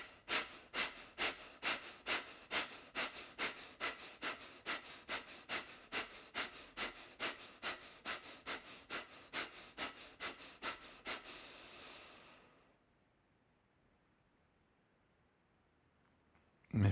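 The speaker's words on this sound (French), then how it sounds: "Donc la respiration du feu," Rapid rhythmic breath of fire yoga breathing, about two sharp forceful exhales per second in a steady pumping run for around eleven seconds, close and clear, then trailing off into near silence.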